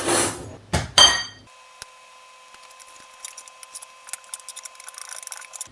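Egg white is mixed with parmesan cheese in a bowl, a series of light, quick clinks and scrapes of a utensil against the bowl that come after a few loud handling knocks.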